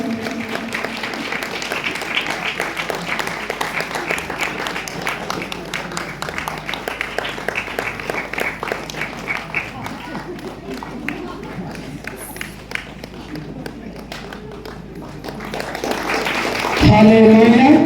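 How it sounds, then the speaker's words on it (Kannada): Loud audience applause at a church event honouring a pastor, a dense sustained clapping crowd lasting many seconds, swelling near the end with a voice breaking in. "ಗಟ್ಟಿಯಾದ ಚಪ್ಪಾಳೆಯೊಂದಿಗೆ"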